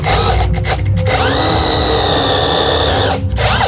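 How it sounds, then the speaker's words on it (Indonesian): A loud power drill runs continuously at close range while drilling a Honda motorcycle front brake part, its whine stuttering briefly early on and dropping out for a moment near the end. "Nah, biar ini masuk, itu harus dibor."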